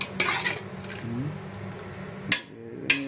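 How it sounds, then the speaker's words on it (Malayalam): Beef curry being stirred in a pot brings a few metallic clinks and scrapes of a spoon against the vessel, with two sharp knocks near the end over a low background hum. "ഇങ്ങനെ ഇളക്കി വെക്കുക"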